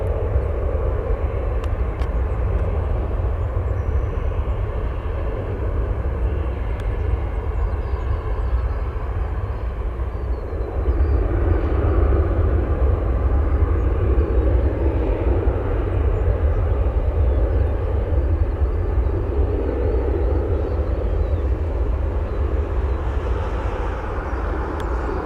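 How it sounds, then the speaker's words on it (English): Heavy Boeing 787 jet arriving at O'Hare Airport, a steady deep roar of engines that swells a little midway, heard from a distance with no talk. "We're going to go over to a heavy 787 arriving real quick."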